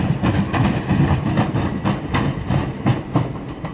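Southeastern Class 376 electric trains pass at Lewisham station on a Dartford to London Charing Cross service. The wheels give a steady, close clickety-clack with a rhythmic beat over the joints and a dense rumble throughout, with no talk.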